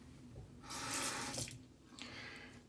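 Tap water runs briefly into a shaving bowl to thin Williams Bay Rum soap lather during a shavette shave, a close splashing burst lasting about a second, then a short second trickle.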